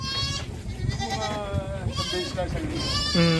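Goats on a farm bleat repeatedly in a series of wavering, nasal calls, with a person talking over them throughout.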